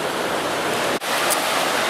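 Sea waves wash onto a beach at Runswick, a loud, continuous broadband roar of surf with a brief dip in the middle and no speech.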